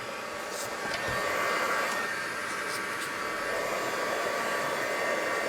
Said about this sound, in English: wherever you've got a little bit too much, just add the heat gun on it.